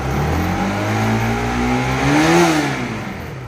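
A Bajaj Pulsar RS200 motorcycle engine with a misfiring, meter-drop fault revs up steadily, its pitch climbing to a peak near the end before easing back, loud and close with a constant rumble and no talk.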